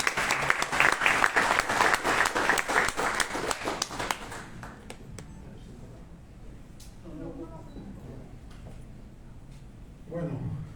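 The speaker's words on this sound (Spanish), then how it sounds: "pido un aplauso para Álvaro Llobet" A conference audience applauds a speaker with loud, dense clapping for about four seconds. It then fades quickly into a quieter room with faint murmurs and a voice.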